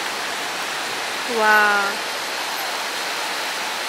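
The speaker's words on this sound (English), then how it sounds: "And it's raining so strong." Heavy rain falls in Bahrain as a steady, dense wash of noise throughout, with one brief exclaiming voice partway through.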